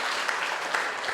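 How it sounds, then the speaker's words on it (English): Brief burst of audience applause at a university startup competition in Prague, a dense even patter of many hands clapping. "So, big round of applause for Dorm Power."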